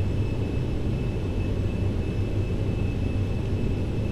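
Airbus A320 jet engines in the FlightGear flight simulator during takeoff give a steady, dense roar with a constant high whine over low rumble, no talk.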